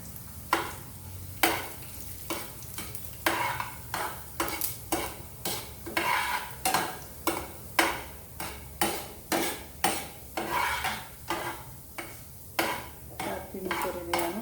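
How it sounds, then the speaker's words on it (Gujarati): Urad dal and mustard seeds frying in oil in a pan for upma, with regular spoon scrapes against the pan roughly every half second over a steady close sizzle. "હવે અડદની દાળ નાખીશું"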